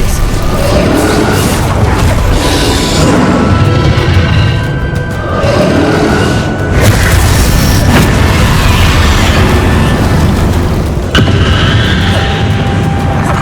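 Bombarda, Confringo and Glacius spells in Hogwarts Legacy battle crash and boom in quick succession, a loud, dense barrage of magical impacts with ringing tonal effects woven through.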